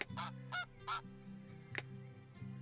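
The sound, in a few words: geese honking in Let's Build a Zoo video game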